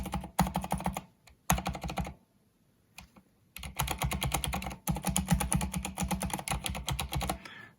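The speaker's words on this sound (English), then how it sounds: "You get less of the echo in the keyboard, like we have the aluminum down below the keys, and that kind of gives a metallic echo." Cherry MX Silent switches fitted with O-rings are typed on a keyboard with an aluminum plate under the keys, giving fast, dense clacking bursts broken by a short pause, loud and close up.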